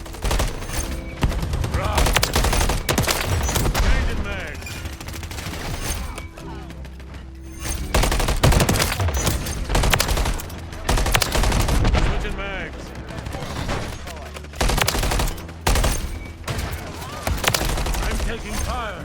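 Rapid gunfire and bursts of automatic weapons crackle through a Call of Duty match, loud and nearly continuous with dense overlapping shots and brief lulls.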